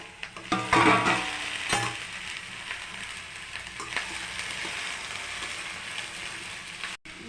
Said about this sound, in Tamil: இப்போ காயை போட்டுக்கலாம். கொஞ்சம் இதில் வசங்கட்டும்